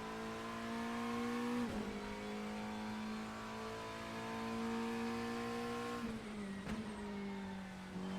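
A GT-MX Macca V8 race car in Assetto Corsa holds a steady, loud engine drone that dips sharply twice as gears shift, then climbs again, with no talk over it.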